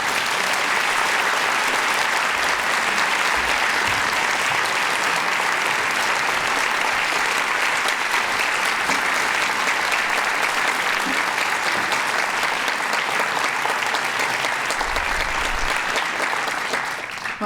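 A large seated audience claps warmly to welcome a speaker to the stage at an evening lecture. The applause is dense, steady and sustained for well over fifteen seconds, with no talk over it.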